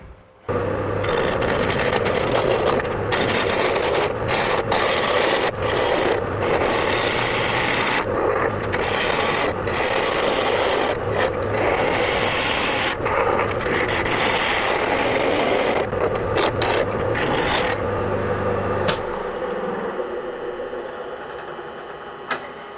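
A lathe grinds and scrapes through a billet of laminated skateboard wood held in cylinder jaws, a rough, continuous roar broken by short gaps as the cutting stops and restarts, then winds down.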